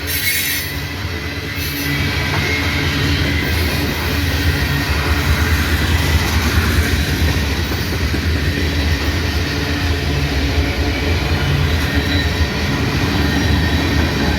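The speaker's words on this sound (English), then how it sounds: "Loaded tank cars." Loaded tank cars on a freight train roll by close and loud, a steady heavy rumble with prominent squealing wheels riding over the rails, no voices.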